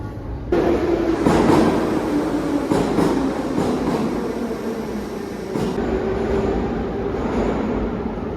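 A Tashkent metro train in motion: a loud, steady rumble and roar of wheels on track with a faint rising whine, heard up close from aboard or beside the car for the whole stretch, with no voices.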